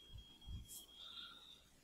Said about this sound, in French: Bah, détecteur de fumée.